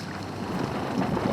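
Strong wind gusting over a lake at its south end, a steady broadband rush with low buffeting rumble and no voices.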